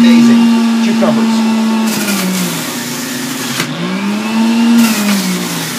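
An electric juicer grinds fennel, celery and cucumbers with a loud steady motor whine that dips and rises as produce is pushed through, while a person talks.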